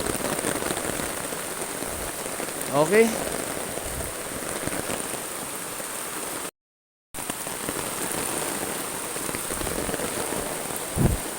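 Heavy rain pours steadily outdoors on a dark, muddy rural path during a sudden downpour, a constant dense hiss throughout, with a brief spoken word and a short dropout partway through.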